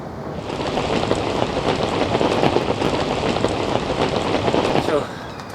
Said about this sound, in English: It's belted down with rain